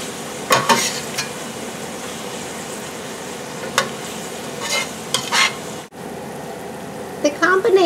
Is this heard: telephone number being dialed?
no